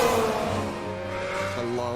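A Formula One car at high speed on the edge of grip, a steady high-pitched engine whine with shifting harmonics across the whole span, loud and continuous.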